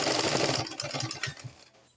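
A sewing machine stitches skin illusion net for a deep neckline, rattling in quick, close mechanical bursts that stutter into shorter pulses before stopping near the end.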